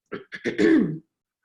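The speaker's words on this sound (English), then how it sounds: "As I clear my throat." One person clears their throat close up, a short rough rasp in a few quick pulses ending in a longer gravelly push, followed by silence.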